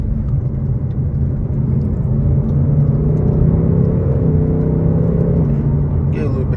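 A Ford Mustang Mach 1 of the S550 generation cruising, its engine giving a continuous low rumble heard from inside the car that grows louder and fuller partway through as the throttle opens.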